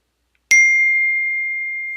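A single phone notification ding rings out clearly after a moment of silence and holds as a clean, sustained tone that slowly fades over about a second and a half.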